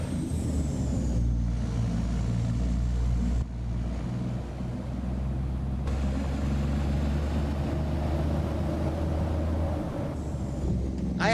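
A Kenworth W900 truck engine in American Truck Simulator drones as a steady, loud low rumble throughout, with a brief dip partway and faint airy hiss above, and no talk.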